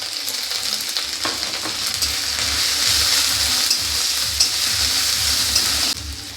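Onion with ginger paste and turmeric frying in a pan for a ridge gourd curry, a loud continuous sizzle with scraping stirs throughout that cuts off abruptly near the end.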